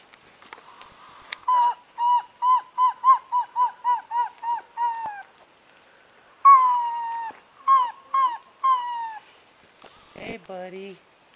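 Owl calling at night in remote Oregon woods, a series of about a dozen clear, repeated wavering hoots in two bursts, fairly close and loud, followed by a brief rising screech at the end.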